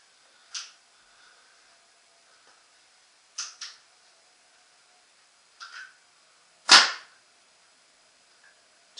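A PMR 2011 paintball marker fires through a chronograph, four sharp, separate pops spaced a second or two apart, the last the loudest, with quiet between them.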